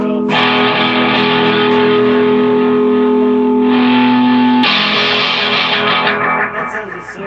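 A heavily distorted electric guitar chord played through a distortion pedal rings out loud and sustained, then shifts to a brighter chord that gradually decays.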